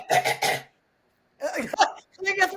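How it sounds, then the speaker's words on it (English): One brief throat clear sits between stretches of speech, a short rough burst set apart by a silent pause. "Clear your throat, everybody."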